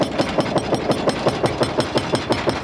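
A jackhammer breaks up the floor and the slab between storeys while a building is being demolished. It pounds in a rapid, steady run of loud hits at about four per second, with no voices over it.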